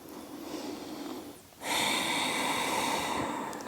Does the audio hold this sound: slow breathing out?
yes